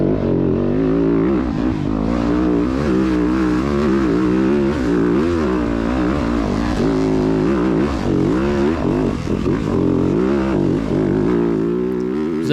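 A two-stroke dirt bike climbs a steep hill at full throttle in a cross-country race, its engine wailing continuously and rising and falling rapidly through gears and traction changes, loud and close throughout.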